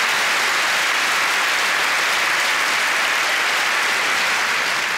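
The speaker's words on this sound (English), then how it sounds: "Give him a round of applause" A theatre audience at a Jimmy Carr stand-up comedy show gives a sustained round of applause, a loud, dense, even roar of clapping from a large crowd with no pauses.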